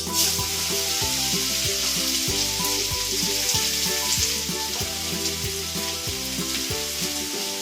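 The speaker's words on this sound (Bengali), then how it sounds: "এবার আমি আলুগুলোকে এই ঘিয়ের মধ্যে ছেড়ে দেবো।" Sweet potato pieces frying in ghee for a Bengali payesh, a loud, continuous close sizzle with occasional stirring scrapes and no talking.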